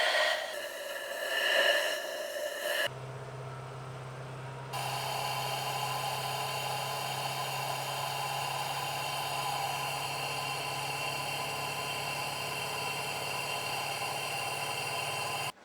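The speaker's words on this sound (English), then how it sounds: "Now I will take compressor and I will blow air into the valve hole." Air compressor blows air into a valve hole on a BMW 1 Series engine, a steady loud hiss with a low hum that kicks in abruptly and holds for many seconds before cutting off.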